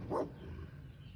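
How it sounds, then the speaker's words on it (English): A stray dog gives a single short bark in a yard, fairly faint and at a distance, followed by quiet outdoor background. "There's a stray dog."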